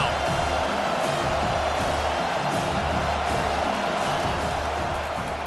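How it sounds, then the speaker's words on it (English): Stadium crowd noise from a college football video game, Ole Miss at South Carolina, swelling behind the defense on third down: a dense, steady roar of many voices held at a loud level throughout, with no distinct talk on top. "Decibels rising as the crowd gets behind this defense on 3rd down"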